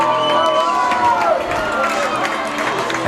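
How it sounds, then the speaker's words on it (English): A loud, steady roar from a stadium football crowd as the Flyers storm back onto the field for the second half against Hurricane, with cheering and whoops swelling throughout the whole stretch. "Crowd gets to roaring."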